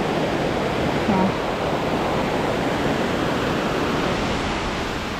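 Waterfall pouring steadily, a loud, unbroken broadband rush of falling water heard close and alone.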